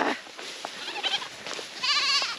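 Goats bleat repeatedly and loudly nearby on a farm where Muscovy ducks are also kept, wavering calls overlapping one another with rustling around them.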